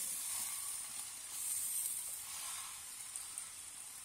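Coconut candy with ripe jackfruit cooking in a pan, a soft, even sizzle and hiss running steadily throughout, with a faint scrape right at the end.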